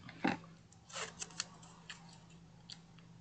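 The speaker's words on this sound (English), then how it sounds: "I'm just going to put it down and then tear off a little bit." A small piece of washi tape is torn off the roll, giving a sharp crisp rip near the start followed by a few lighter crackles and taps in a quiet room.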